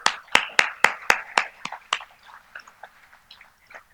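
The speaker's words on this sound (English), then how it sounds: "A round of applause, please." Sparse clapping at an anniversary cocktail and award ceremony, a few loud, sharp hand claps in quick succession that thin out and fade into scattered, softer claps.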